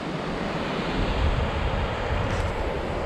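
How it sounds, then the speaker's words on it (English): Ocean surf washing onto the shore at Guayaguayare on Trinidad's south east coast, a steady broadband wash with a slight swell in the middle, mixed with some wind noise, no voices. "Check, the, check this ocean."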